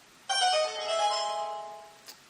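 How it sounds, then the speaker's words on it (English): The Legend of Zelda secret-solved jingle from the video game, a bright, clear chiming melody that rings out alone and fades away within about two seconds. "This is the sound that it makes when you solve a secret."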